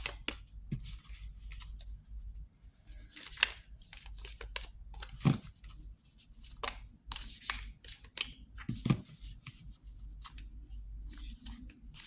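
Oracle cards are shuffled by hand, soft papery riffles and rustles repeating close and quiet with no talk over them.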